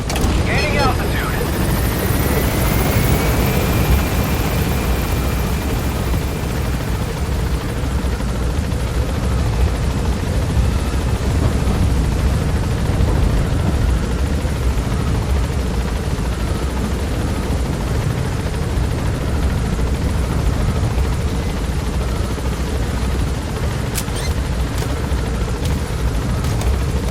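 A Metal Gear Solid V extraction helicopter drones steadily and loudly as it gains altitude, its rotor roar filling the scene while a voice speaks over it.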